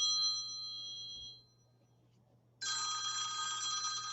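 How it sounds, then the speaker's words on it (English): A telephone rings indoors with a bright electronic trill, pauses for about a second, then starts ringing again steadily and at moderate volume, with no one talking. "oh my goodness, there goes the phone again"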